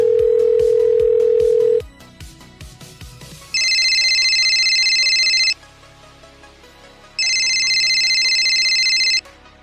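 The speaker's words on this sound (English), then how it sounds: "the lead agent dialed Charlie on his cell phone to try to coax him to surrender peacefully" A cell phone call is placed: brief dial tones and beeps give way to two long electronic ringback tones separated by a pause, loud and clean, with no voices.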